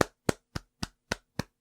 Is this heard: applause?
yes